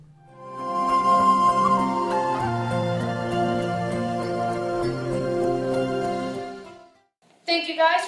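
A modern Native American flute plays a sustained, rich melodic line over a layered accompaniment, fairly loud and continuous, then cuts off before a brief bright burst of another sound at the end.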